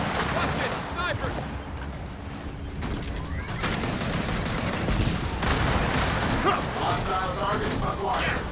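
Sniper rifle fire and other gunfire in the Gears of War 4 campaign, a dense, steady barrage of shots and battle noise that runs without a break from start to finish.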